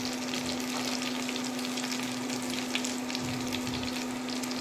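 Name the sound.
onion and garlic frying in oil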